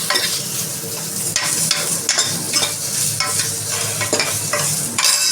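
Onions and spices sizzle and fry in a pan for avarekalu sambar while a utensil stirs and scrapes through them in repeated strokes, loud and close.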